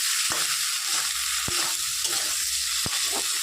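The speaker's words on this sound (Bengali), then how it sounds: "ভালো করে মশলা দিয়ে শিম বিচিটাকে আমি ভাজা করে নিলাম।" Broad bean seeds frying with spices in a pan, a continuous close sizzle punctuated by three sharp spatula knocks and scrapes at regular intervals.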